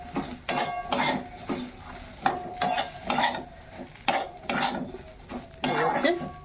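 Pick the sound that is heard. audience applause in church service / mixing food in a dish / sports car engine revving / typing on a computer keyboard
mixing food in a dish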